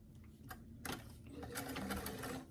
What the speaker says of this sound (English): I'm going to start with a few back stitches over that hem to secure that edge